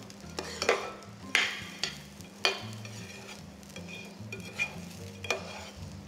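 Jasmine rice grains are stirred and toasted in a dry pan, with a soft, steady sizzle under a series of sharp, irregular scrapes and clinks from the utensil against the pan.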